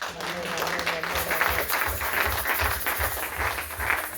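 A church congregation applauding, rhythmic clapping in a steady beat with the sound of a crowd in the room.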